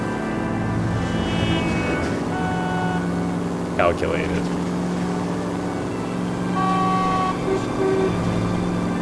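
A bulky car in a video game rumbles steadily with a short horn toot, all under continuous talking from a nearby voice.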